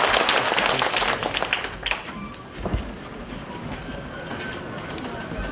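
Brief burst of group clapping from participants after a back-strengthening stretch exercise, loud at first and thinning out within a few seconds, with voices mixed in.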